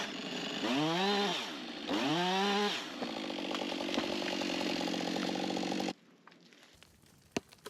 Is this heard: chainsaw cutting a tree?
yes